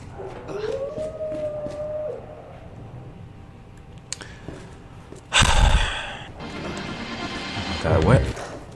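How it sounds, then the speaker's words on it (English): Dogs in Resident Evil 2 howl and whine in a drawn-out rising cry, followed by sharp snarling bursts and rustling, all mixed with a person talking over the game. "And now it's some dogs."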